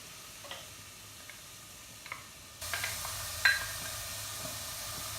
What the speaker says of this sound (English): Butter's melted, I'm adding in the onions.